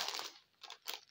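Satin-finish envelopes are handled and crinkled up close, three soft papery rustles separated by short pauses, with no talking.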